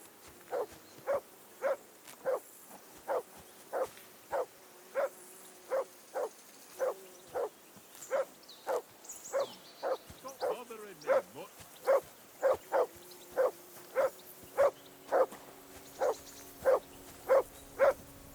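A dog in the video game Kingdom Come: Deliverance II barks in a steady, evenly spaced rhythm, about two dozen sharp barks at moderate distance, while a voice speaks over part of it.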